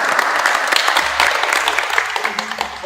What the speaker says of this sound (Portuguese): uma salva de palmas para os nossos proprioceptores